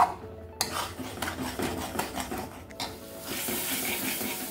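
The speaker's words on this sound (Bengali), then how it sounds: "এখন যেই বেটে রাখা টমেটো পিউরিটা ছিল সেটাও আমি দিয়ে দেব। দিয়ে আবারও আমি ভালো করে এটাকে কষিয়ে নেব" Ground tomato puree added to cooking spices in a pan and stir-fried, with clattering spoon scrapes and knocks against the pan over a rising sizzle that grows steadier and hissier toward the end.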